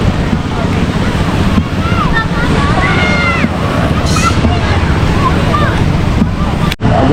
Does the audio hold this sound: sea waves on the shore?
yes